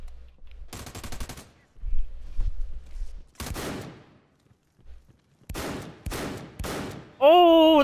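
Shotgun fire in the video game AA:PG, several short loud bursts of gunshots separated by quiet gaps, ending in a high electronic tone.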